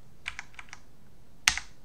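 Computer keyboard and mouse clicks: four quick light taps, then a pause, then one sharper, louder click with a faint follow-up, close by in a quiet room with no speech.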